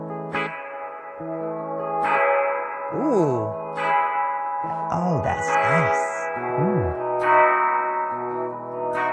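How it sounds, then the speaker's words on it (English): A spring reverb effect read by infrared sensors processes played notes into echoing, sustained tones with swooping pitch bends. A person reacts with brief exclamations. "they're using infrared sensors to see how the spring is moving and taking that as a reverb signal"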